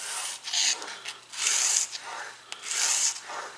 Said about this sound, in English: Putting the last few strokes on the micro bevel on the 1200 stone